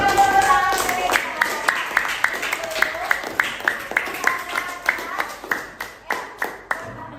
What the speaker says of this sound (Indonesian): Berikan tepuk tangan untuk Reza.